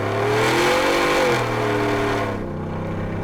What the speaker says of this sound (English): Now the exhaust in this thing sounds just majestic.